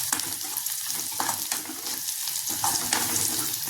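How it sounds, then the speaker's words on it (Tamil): Onions with salt, a cinnamon stick and a clove sautéing in a pan for a home-style egg gravy, giving a steady close sizzle with rhythmic stirring scrapes throughout and no talk. "கொஞ்சம் வெங்காயம் வதங்குறதுக்கு உப்பு போட்டிருக்கேன்"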